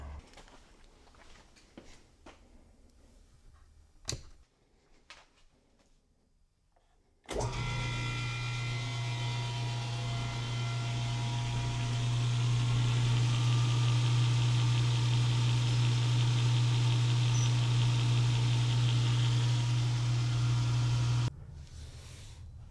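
A stone is cut in half on a saw. Quiet handling clicks come first, then the saw starts abruptly and runs as a loud, steady droning whine with a low hum for about fourteen seconds before stopping suddenly, with no talking.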